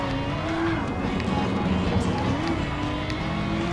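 A Porsche 919 Hybrid racing on the Nürburgring in a video game, its engine note loud and continuous, rising and falling in pitch as the car accelerates through the lap.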